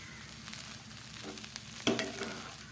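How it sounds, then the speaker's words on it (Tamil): Spiced potato masala with turmeric and salt is stirred in a pan, giving a soft, continuous sizzle with faint scraping strokes. A sharper knock or scrape stands out near the middle. The sound is fairly quiet and there is no speech. "இந்த மஞ்சள் தூள், உப்பு, உரப்பு எல்லாம் கரெக்டாக ஆகிற அளவுக்கு கிண்டிக்கலாம்."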